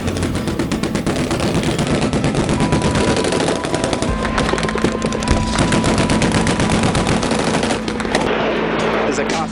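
Small arms fire during contact with the enemy crackles in loud, rapid, sustained bursts, machine-gun-like rattling with overlapping shots that barely let up.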